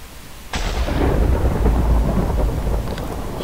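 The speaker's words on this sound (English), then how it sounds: "I saw that lightning strike." Thunder from a lightning strike in the Minecraft video game cracks in suddenly and rolls into a loud, sustained rumble with a rain-like hiss. Nobody speaks over it.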